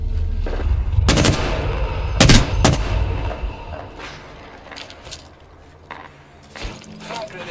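Gunfire in the battle royale video game Apex Legends, several loud bursts of shots near the start and middle, then fainter scattered shots fading under game noise.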